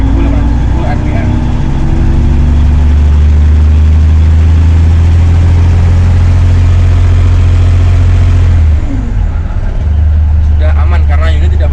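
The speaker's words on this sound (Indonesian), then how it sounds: "kemudian kita injak pedalnya sampai 1870 rpm" A Komatsu HD465-7 dump truck engine is revved to 1870 rpm, giving a loud, steady low drone that holds for several seconds, then drops and settles back, with talk over it.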